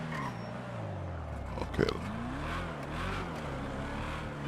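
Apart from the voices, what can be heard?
Subaru car driving in GTA video game mod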